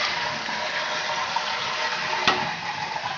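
American Standard toilet with a Fluidmaster 3-inch flapper and 400A fill valve flushing, a steady close rush of draining water throughout, with a brief knock as the flapper closes.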